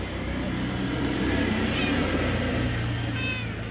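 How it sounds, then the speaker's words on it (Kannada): Young kittens give a few thin, high meows over a steady background hum, with faint voices nearby. "ಬೆಕ್ಕಿನ ಮರಿಗಳು ನೋಡಿ."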